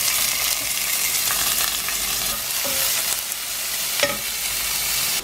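Peppers, chilli, garlic and onion frying in oil in a pan, giving a constant close sizzle with faint stirring scrapes and a few small pops.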